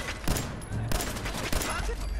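Submachine gun fire in Fallout 4 comes in several close, loud bursts of rapid shots, one after another, with a voice talking over them.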